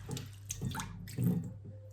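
Half a glass of water poured over anchovies in a white vinegar marinade for boquerones, a short close splash and trickle lasting about two seconds with no talk.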